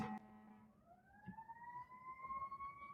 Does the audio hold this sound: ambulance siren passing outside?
yes